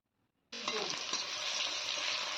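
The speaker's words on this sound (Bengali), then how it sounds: "পেঁয়াজগুলোকে এখন কিছুক্ষণ ভেজে নেব।" Chopped onions hit hot refined oil in a wok, the silence breaking into a sudden loud sizzle that settles into a steady, close hiss of frying with light crackle.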